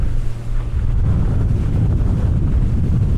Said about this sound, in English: Mo's letting me drive the speedboat.